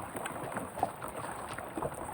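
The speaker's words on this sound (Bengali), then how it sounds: "এ কি বর্ষা এ কলকলিয়া বৃষ্টি ঝুমঝুমে বৃষ্টি" Steady heavy rain and gusting wind roar across the whole clip during a night storm while fishing, a dense hiss with a few louder splashes, with waves on open water.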